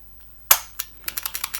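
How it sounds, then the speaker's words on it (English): Keys click on a repaired IBM Model F keyboard from an IBM 5155 portable PC: one sharp, loud snap, then a single click, then a quick run of about seven crisp clicky keystrokes close to the microphone. "And if they give you any trouble not making the distinct clicky sound, just tilt the keyboard like this."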